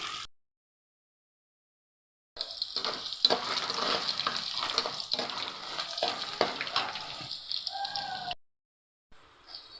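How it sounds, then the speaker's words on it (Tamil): Chicken pieces fry in a pan until browned for a Tamil chicken eral varuval, a close sizzling crackle with stirring scrapes for several seconds between brief silent gaps. "ப்ரௌன் கலர் ஆகிற வரைக்கும் வறுத்துக்கோ."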